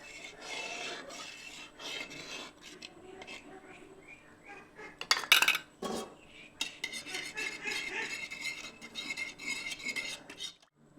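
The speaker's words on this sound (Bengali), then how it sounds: "তো এরপর এই টক দইটি ঢেলে দিচ্ছি এই দুধটির সঙ্গে, দিয়ে ভালো করে মিশিয়ে মিশিয়ে নিচ্ছি সব কিছু" Sour yogurt being stirred into milk in a bowl for homemade mishti doi, a steady rasping scrape of a spoon against the bowl with a few sharper clinks near the middle.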